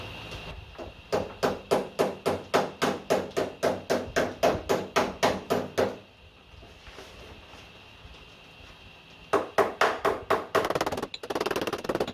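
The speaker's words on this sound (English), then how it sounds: "wood hammer, and the dolly, we'll bash that in" A wooden hammer bashes a Ford Escort II boot lid against a dolly: a rapid, steady series of about twenty hard, hollow metallic knocks, a pause, then another burst of blows, close and loud.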